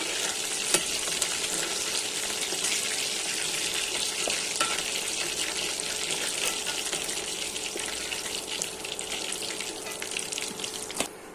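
Broiler chicken meat sizzles in hot oil in a wok, a continuous close crackling fry broken by occasional scraping stirs and faint watery splashes, with no talking.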